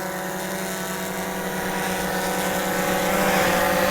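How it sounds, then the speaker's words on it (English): A SplashDrone 4 waterproof drone flies overhead in fog near water, its propellers giving off a steady, continuous buzzing whine that grows slightly louder, with no voices. "And there's the drone up in the air."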